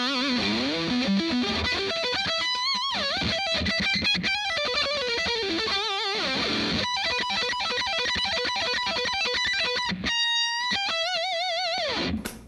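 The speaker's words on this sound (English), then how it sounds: "if I crank it up a little bit and put a distortion pedal on" Heavily distorted electric guitar through a distortion pedal on a Paul Gilbert Fireman guitar, playing fast melodic runs, bends and sustained notes, loud and continuous with brief pauses, ending abruptly.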